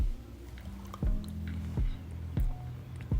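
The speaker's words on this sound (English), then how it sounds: "So you can see I'm pouring little soap on the paper." Liquid soap poured in small amounts onto paper set in a silicone mold gives soft, wet squishing and dripping sounds close by, with a few sharp slaps recurring roughly every second.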